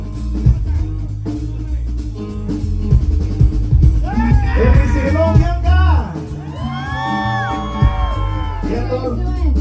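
A concert crowd yells, whoops and cheers loudly, with rising shouts layered over a steady low backing and a voice speaking over the noise.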